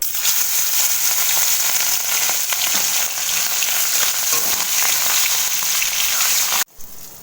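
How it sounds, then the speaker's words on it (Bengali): Prawns coated in salt and turmeric sizzle in hot oil in a home kitchen, a loud continuous crackling fry with popping spatter that runs steadily, then cuts off abruptly near the end. "তো এবার এই চিংড়ি মাছটায় তেলে ভেজে"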